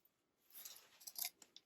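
A few quick snips of scissors trimming excess elastic for a button waistband, faint and close, with short crisp cuts bunched near the end and no talking.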